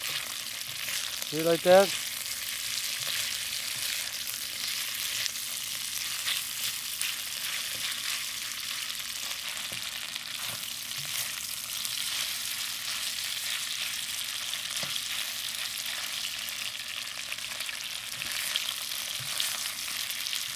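Thin pork slices sizzle steadily in a hot stir-fry pan for pork and broccoli, a constant bright hiss with occasional stirring knocks, and brief talk near the start.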